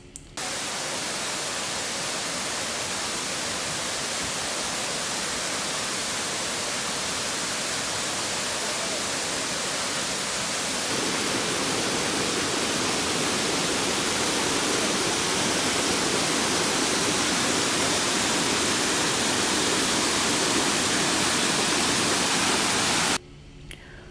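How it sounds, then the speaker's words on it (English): Bushkill Falls, a tall, high-volume waterfall in a mountain gorge near the Delaware Water Gap, roars as a loud, steady broadband rush that fills the whole span, swelling slightly about halfway through before cutting off at the end. "Bushkill is tall and high volume, so it's very much in the category of big, loud, roaring waterfall"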